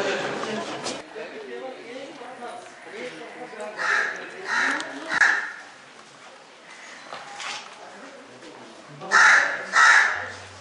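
A crow caws outdoors at a site in India, harsh calls coming in a cluster of three and then a closer loud pair, with people talking around them.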